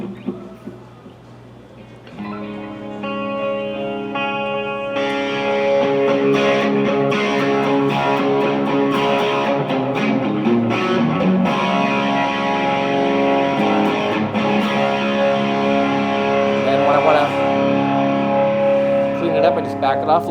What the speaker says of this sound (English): and then some distortion.